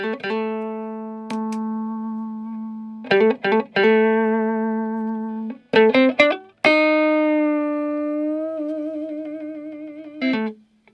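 Electric guitar played through a Sonicake Twiggy Blues compressor pedal used as a clean boost with the drive off: sustained clean notes and short chord stabs ring out smoothly, alone with no talking, separated by brief pauses.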